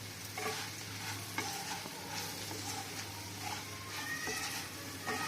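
Raw banana (aratikaya) pieces frying uncovered in a pan give off a soft continuous sizzle, broken by occasional stirring scrapes and clinks, quiet and close with no talking.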